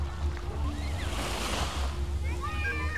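Surf rolls in at Siloso Beach on Sentosa, Singapore, a broad, steady wash of waves with wind rumble on the microphone, while a voice talks faintly at moments.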